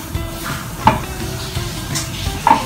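Chopped onions sizzle in hot oil in a cooking pot, with steady frying hiss and repeated scraping and clinking of a spoon stirring against the metal.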